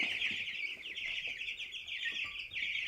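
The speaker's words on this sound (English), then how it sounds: "It's time to box our chickens up, take them to the coop up in the bush." Young chicks of Rocky Mountain chickens peep steadily in high, continuous chirps from inside a box, close and unbroken, with faint shuffling beneath.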